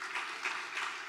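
Meeting audience bursts into steady applause, a dense wash of many hands clapping together for about a second with no speech over it.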